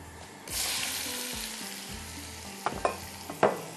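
Korma masala hits hot cooking oil in a pan, bursting into a loud, steady sizzle that continues with spoon-stirring scrapes and a few sharp clinks near the end.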